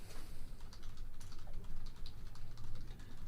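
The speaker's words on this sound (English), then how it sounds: "You can hear his keyboard just in the background there" Fast, continuous typing on a computer keyboard heard faintly in the background, a steady patter of key clicks under a low hum.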